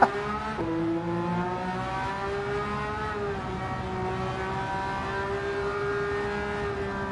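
A Porsche 911 race car engine in Gran Turismo 7 holds a steady high-pitched whine that dips sharply early on, then climbs and levels off, loud and continuous with no talking.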